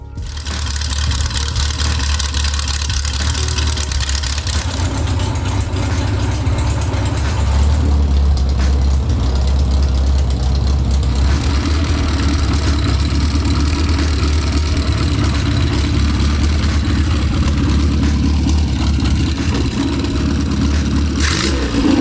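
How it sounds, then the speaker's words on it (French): Classic Mini car engine starting and idling steadily after a Motogadget wiring harness install, a loud close low rumble that holds for over twenty seconds with slight variations in pitch and roughness. "Le moteur démarre."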